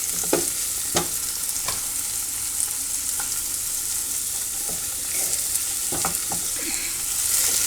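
A medium-sized onion fries in a pan with a continuous close crackle, broken by scattered sharp taps and scrapes from stirring. No one speaks.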